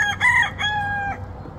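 A Polish rooster crows once, close and loud, in a short harmonic call with a rising start and a held tail, heard alone in a chicken yard.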